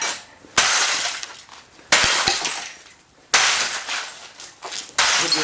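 Glass from a Sony Trinitron CRT computer monitor being smashed during scrapping, four loud shattering crashes a few seconds apart, each followed by tinkling debris, close by with no talk.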